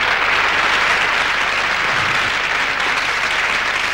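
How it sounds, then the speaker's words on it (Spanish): A studio audience at a televised music programme breaks into sustained, even applause, a dense continuous clapping that holds at full strength without pause. "¡Aplauso!"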